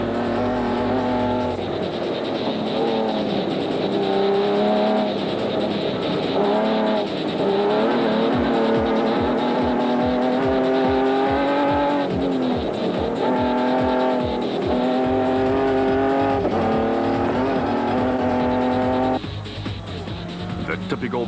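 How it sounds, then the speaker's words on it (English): A Ford Ranger rally truck in a Botswana desert race, part of the Toyota 1000 2007, roars loudly across the flats, its engine rising and falling through repeated gear changes with a sustained close-up drone from start to finish. "Van Tonder and Guapo were giving it horns in the 4th Ford Ranger on the flats"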